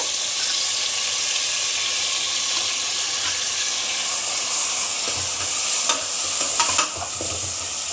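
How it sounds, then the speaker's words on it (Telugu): Onion, green chillies and curry leaves fry in hot oil while being cooked into a prawn and potato curry. A loud, continuous sizzle fills the whole stretch, with a few stirring scrapes near the end. "ఇదిగోండి ఆయిల్ హీట్ ఎక్కుతుంది కదా ఇప్పుడు ఆనియన్ పచ్చిమిర్చి కరివేపాకు వేసేస్తాను"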